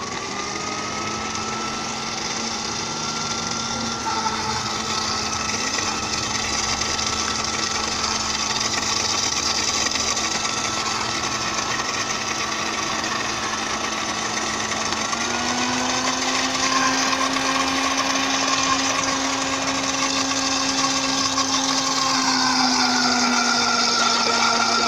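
A blender whirs continuously as mayonnaise is beaten and oil is added little by little for a lemon-flavoured batch, the steady motor hum shifting pitch midway as the mixture thickens, loud and close with no talking.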